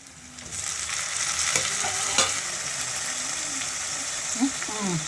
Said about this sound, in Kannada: ಈರುಳ್ಳಿ ಎಲ್ಲ ಫ್ರೈ ಮಾಡ್ಕೊತಾ ಇದ್ದೀನಿ. ಟೊಮೆಟೊ ಹಾಕ್ಕೊತಾ ಇದ್ದೀನಿ ನೋಡಿ.